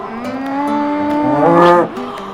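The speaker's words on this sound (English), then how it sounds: "Do you know what sound a cow makes?" A cow at the Tillamook Creamery lets out one long, loud moo lasting about two seconds, rising slightly in pitch before it stops abruptly, with no talk over it.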